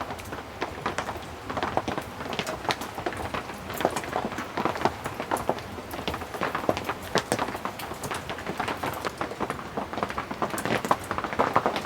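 Rain patters on a nearby rustic cabin surface with irregular louder drips and taps scattered through, a busy crackling texture with no talking.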